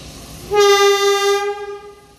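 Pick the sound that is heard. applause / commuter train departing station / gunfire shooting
commuter train departing station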